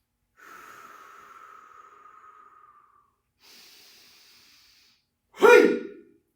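A deep inhalation during a qigong strength-training exercise, a long steady airy breath heard close and alone, followed by a second softer breath and then a short forceful exhale.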